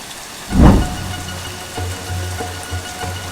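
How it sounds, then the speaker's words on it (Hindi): Rain falls steadily in the background, a soft wash of noise with a brief louder swell near the start, under low hums and faint clatters. "अब बहुत बारिश हो रही है"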